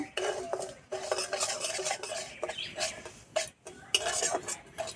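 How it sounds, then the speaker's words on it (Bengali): A spoon scrapes and stirs semolina steadily as it fries over low heat in a pan, with metallic clinks and a faint sizzle, continuous and close. "সুজিটা হালকা আঁচে ভেজে নেব।"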